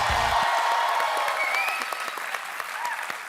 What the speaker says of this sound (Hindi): जोरदार तालियां हो जाए एक बार।